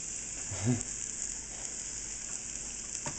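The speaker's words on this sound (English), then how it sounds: "That's why it's sizzling. That noise it makes." Vegetables for pasta primavera sizzling in a hot pan as tomatoes are about to go in, a steady hiss and crackle, with a brief low voice near the start.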